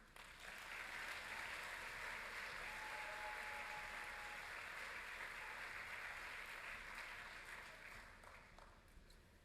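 A university orientation audience applauds to welcome a speaker, dense steady clapping from a large crowd that swells quickly, holds for several seconds, then slowly fades toward the end.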